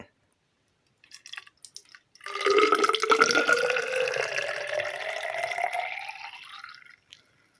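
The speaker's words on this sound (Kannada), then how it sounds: "ನಾವು ಮಾಡಿರೋ ಅಂತಹ ಒಂದು ಮರದ ಲೋಟ ಇದೆಯಲ್ಲ ಅದಕ್ಕೆ ಹಾಕೋಣ" Rose apple juice poured into a homemade wooden cup, a steady liquid stream running for about five seconds after a few brief drips and splashes, close and fairly loud, no talking.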